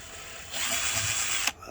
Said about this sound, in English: If you get a drill, and I've just put something on what will catch it, and you turn the drill the right way